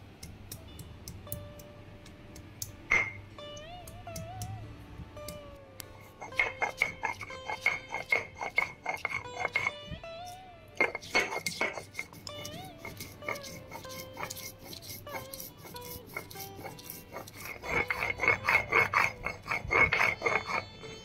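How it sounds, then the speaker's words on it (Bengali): Cumin and ginger being ground by hand on a stone grinding slab, with repeated rasping, scraping strokes that come in bursts close to the mic and a faint tonal background underneath. "এবার এগুলোকে আমরা শিলে বেটে নেব।"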